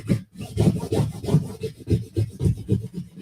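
A scraper is rubbed hard over vinyl laid on paper in quick, rhythmic scratchy strokes, close and fairly quiet, with no talking.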